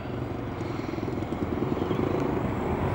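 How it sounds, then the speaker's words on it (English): A steady mechanical drone of engines at a motorcycle meeting spot near Abergavenny, a continuous buzzing rumble with no speech over it. "This is where all the motorcycles meet en route."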